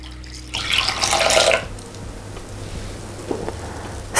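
Water is poured into a dough mixture of dry ingredients, milk and oil in a bowl, making a splashing trickle for about a second before quieter ambient noise takes over.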